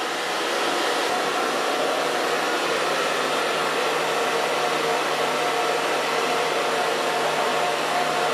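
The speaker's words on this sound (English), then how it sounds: "And dry them this way." Hair dryer blowing steadily on hanging curls during a haircut and styling session, a loud, constant close whirring roar with no voices.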